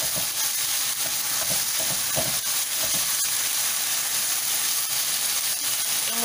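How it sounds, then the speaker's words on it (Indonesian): Chicken pieces fry in a hot pan for minchee, giving a loud, steady sizzle and hiss with a few scraping stirs and clatters. "Dan masukkan ayamnya ya."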